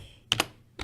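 A few quick clicks on a computer keyboard: a tight pair of keystrokes followed by one more after a short pause, crisp and close.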